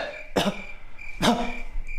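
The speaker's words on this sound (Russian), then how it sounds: "Снова кашель." Two sharp, close coughs about a second apart, over a faint steady background hum, in the game Baldi's Basics.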